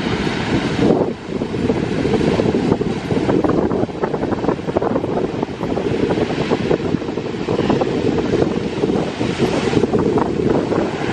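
Rough, choppy sea water surges and churns under strong wind, a loud continuous roar with heavy wind buffeting on the microphone and no voices.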